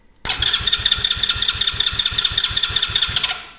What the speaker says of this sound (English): Fire the engine again.